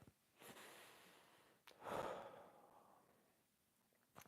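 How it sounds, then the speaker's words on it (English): Slow, deep breaths during a mobility and core exercise, a soft inhale followed by a longer, audible exhale, close and quiet with no talking. "Breathing, by the way."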